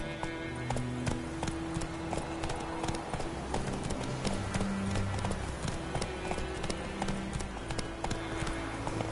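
Roach, a horse in the video game Witcher 3, gallops with steady, rapid clip-clop hoofbeats over a busy game soundscape, fairly loud and continuous throughout.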